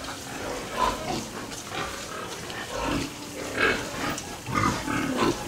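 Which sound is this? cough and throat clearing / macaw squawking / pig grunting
pig grunting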